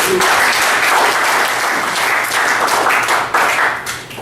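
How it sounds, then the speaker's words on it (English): At a Toastmasters club meeting, a roomful of people breaks into loud, dense applause that stays strong for several seconds before thinning and tapering off at the end. "Let's give a round of applause."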